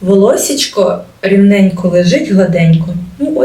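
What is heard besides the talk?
No distinct noise like a dog, phone or traffic.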